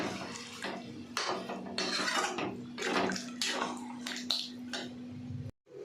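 Water is poured into a pot of browned chicken curry cooking in a home kitchen, making a continuous splashing, bubbling hiss with clinks of utensils and a low steady hum, ending in a brief cutoff.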